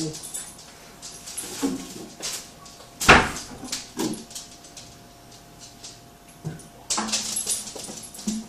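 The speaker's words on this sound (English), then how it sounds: "Grumpy puppy." A puppy whimpers in a home kitchen where pasta is being cooked, giving several soft, intermittent whines with a sharp clatter and occasional background voices in between.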